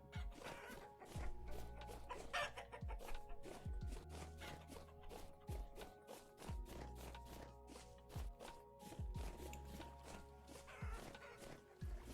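Chickens in the video game Vintage Story cluck repeatedly over a steady, rhythmic musical background with thumping beats, all at low level.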